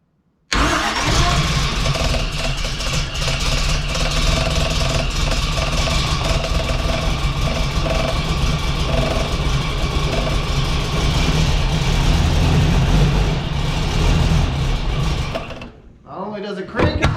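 A Toyota FJ40's engine cranks and fires, then runs loud and close at a steady rumble for about fifteen seconds before it cuts off abruptly.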